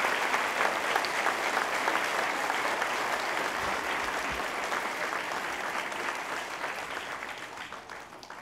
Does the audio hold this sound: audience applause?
yes